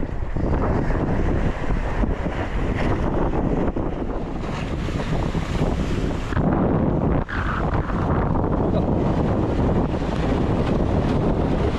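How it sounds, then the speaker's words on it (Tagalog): Loud, constant wind roars into the microphone over churning waves of a rough Pacific Ocean aboard a fishing boat, a dense rushing wash with brief dips, no voices. "Nararanasan namin ngayon ang maalon na karagatan."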